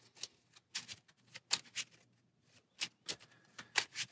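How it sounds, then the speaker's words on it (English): A deck of playing cards for the Marvel Champions card game is shuffled by hand in quiet, soft riffling bursts repeating in short irregular clusters, close and faint with no talk. "And we'll shuffle up."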